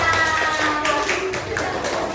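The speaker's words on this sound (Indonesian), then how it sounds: "Tepuk tangan buat saya semuanya" Fifth-grade pupils clap together in a classroom, a brisk, busy crackle of many hands close by, lasting about two seconds with faint voices in the background.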